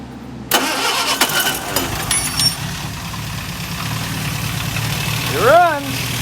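A 1961 Sunbeam Alpine II with freshly installed carburetors cranks and catches, settling into a steady running idle close by, with a brief rev rising near the end.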